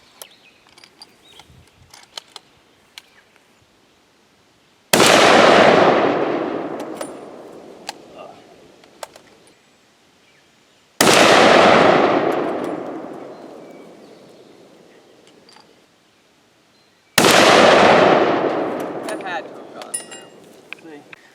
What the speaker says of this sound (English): we're just going to take 3 shots with a 150 grain soft point out of the 300